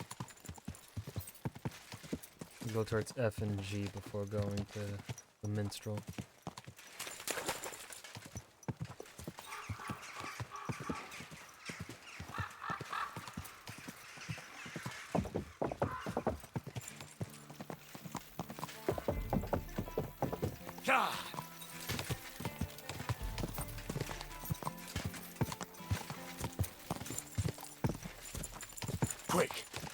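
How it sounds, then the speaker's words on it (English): Horse hooves clip-clop in Kingdom Come: Deliverance II, a steady run of close hoofbeats lasting the whole stretch with scattered knocks, while someone talks over it. "Easy, good horse."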